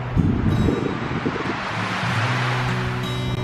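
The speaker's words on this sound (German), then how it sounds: "Der Wind wurde immer stärker." Strong stormy wind roars and gusts steadily through a tent campsite during a bikepacking trip in the Velebit mountains by the Adriatic, a loud broadband rush with low rumbling buffets throughout, no voices.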